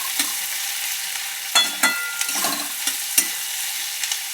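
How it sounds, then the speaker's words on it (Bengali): Finely chopped onion and tomato fry in a pan for a light chicken curry under a constant soft sizzle, with irregular spatula knocks and scrapes as the mixture is stirred. "এবার পেঁয়াজ আর টমেটোটা একটু ভাজা ভাজা করে নিতে হবে।"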